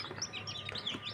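A desi chicken chick chirps repeatedly in quick, high, thin peeps close by, with a steady run of calls and no talking.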